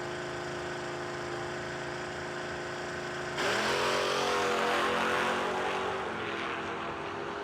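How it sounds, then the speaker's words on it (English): A 1967 Chevrolet Camaro drag racing against an S10 at a no-delay drag racing event: steady engine roar, then a sharp jump in loudness as the cars launch down the strip, with no talk. "Really clean little street-looking Camaro, 67 Camaro."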